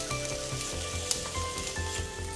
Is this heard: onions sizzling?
yes